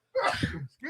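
One sharp sneeze from a person in a sports-talk podcast studio, sudden and close, followed by a brief voiced trailing sound.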